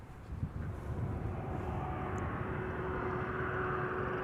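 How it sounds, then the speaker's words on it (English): Jet engines of an Airbus A330 spool up at Amsterdam Schiphol Airport, a steady distant rumble with a rising whine, heard faintly and evenly across the whole stretch. "Oh, engines being started."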